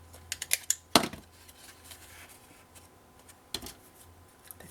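A corner rounder punch with a worn blade fails to cut cleanly through soft paper while scrapbooking, giving a few sharp clicks and crunches, one louder press, then a later snap, close and with no talk.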